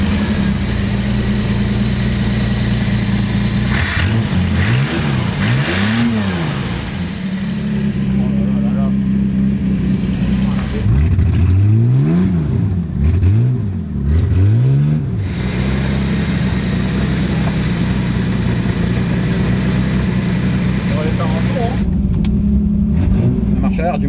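An automatic car's engine revs and drives off, with rising and falling revs and gear sweeps over a loud continuous drone, close and prominent under someone speaking French.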